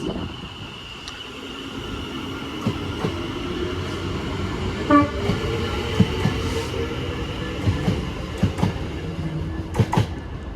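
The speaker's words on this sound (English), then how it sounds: "there goes the 1441 West Midlands Railway service to Wolverhampton via Birmingham Street" West Midlands Railway passenger train to Wolverhampton passes on the Walsall line, a steady rumbling roll with rhythmic wheel clicks over rail joints and a faint squeal, fairly close and continuous throughout.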